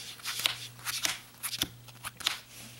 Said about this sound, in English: I'm just going to shuffle it a couple times just to show you guys that that's been shuffled.